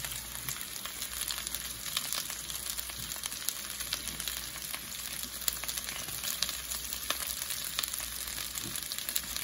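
Potatoes sizzle and crackle in a hot pan, a steady close frying hiss with scattered sharp pops and occasional stirring, no talk.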